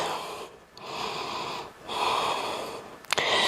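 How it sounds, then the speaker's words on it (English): A long, deep breath drawn and released during a yoga side plank, with audible airy inhale and exhale phases, fairly close and steady, followed by a brief sharp sound near the end. "Big, big breath."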